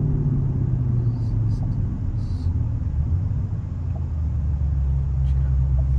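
Porsche 911 Carrera 992 engine rumbling steadily, a deep continuous low drone heard from inside the car with people talking over it.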